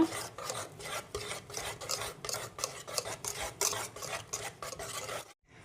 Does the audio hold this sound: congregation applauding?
no